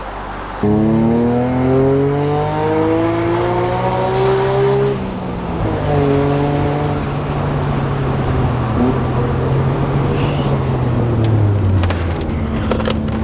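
A 1994 Suzuki Cappuccino's small, modified engine revs hard to a high pitch, holding at a screaming rpm near 10,500 with brief dips and climbs, loud and close throughout.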